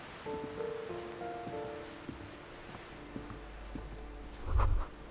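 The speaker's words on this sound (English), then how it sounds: "Waves crashing in the darkness." Low surf washing in darkness within the game Disco Elysium, a soft steady ocean wash with faint rustling and a swelling surge near the end, alone with no voices.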